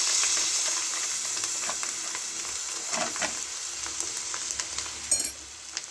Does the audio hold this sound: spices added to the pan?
yes